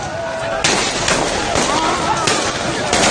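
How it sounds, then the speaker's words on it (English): Gunshots from security operatives at a street demonstration ring out as a series of sharp bursts spaced through a noisy crowd, with voices underneath. "Series of gunshots by security operatives waned"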